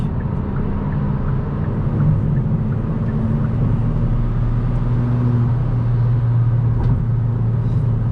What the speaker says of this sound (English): This engine has a really nice sound to it.